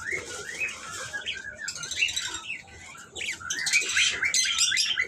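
Pet birds in a breeding shop chirp and twitter in busy overlapping bursts, bright and fairly close, with a faint low rustling underneath and no speech.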